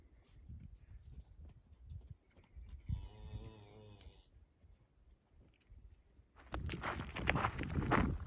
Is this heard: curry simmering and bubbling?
no